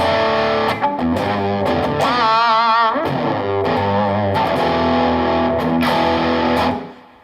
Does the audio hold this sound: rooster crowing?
no